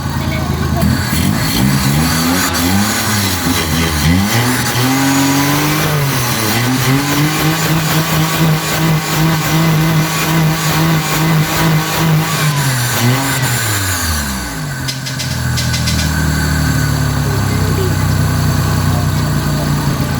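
A car engine revs hard and repeatedly after a throttle body cleaning, pitch sweeping up and down through several loud throttle blips before settling toward idle, close and sustained throughout.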